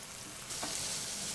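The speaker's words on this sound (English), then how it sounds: "So just let that do a low simmer, low, kind of fry it up." Tuscan soup ingredients fry on low heat in a pan, a soft continuous sizzle and crackle that brightens about halfway through, with a brief stirring scrape.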